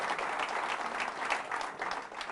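Church congregation claps during an Advent sermon, a quiet, even patter of many hands heard from some distance throughout.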